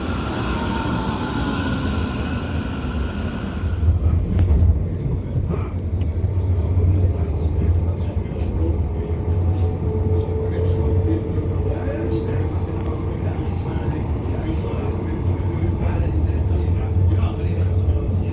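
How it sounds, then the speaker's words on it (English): A number 17 tram in Frankfurt rumbles along, a steady low mechanical drone and rolling rumble that persists throughout, with faint clicks and rattles over it and a brief change in tone near the start. "Catch the number 17 tram."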